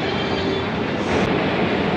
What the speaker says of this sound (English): This is Pershing Square Station, and it was from here that Tom exited out of the subway to the park